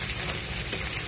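Green chilli, onion and fresh coriander leaves frying in a pan, a steady, loud, close sizzle that runs without a break and without any voices.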